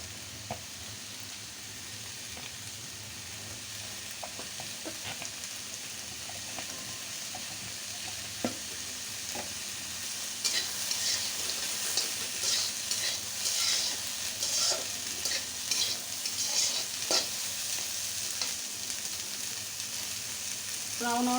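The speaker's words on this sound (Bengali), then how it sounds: "তারপর এগুলো কড়াই দিয়ে হালকা ব্রাউন করে ভেজে নেব" Chopped onions frying in oil in a kadai for chicken curry give a steady close sizzle, broken by scraping stirs that grow busier and louder in the second half; nobody speaks.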